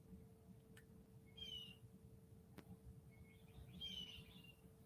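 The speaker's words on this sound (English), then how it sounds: "of the bird song out my window" Faint bird song drifts in from outside a window, two short chirping phrases over a low steady background hum in a quiet room.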